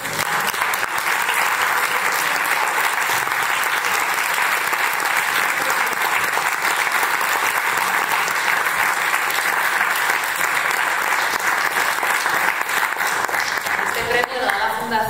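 Loud, sustained applause from a large audience at an award presentation, dense clapping filling the whole stretch without a break.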